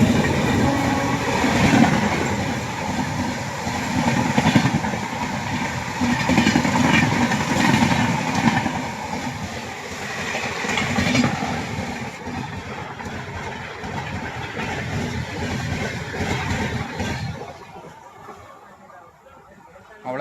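A train rumbles past with rattling, clattering wheels, loud and close for a long stretch before the noise thins out and fades away; a passenger train on the Goa to Tiruppur route.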